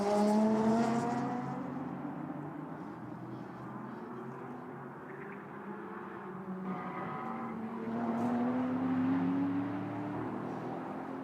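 GT race cars, including a Porsche, drive a circuit in Beijing, their engines rising and falling as they pass at moderate distance, one car after another, with no voices.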